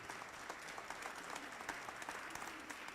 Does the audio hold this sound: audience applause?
yes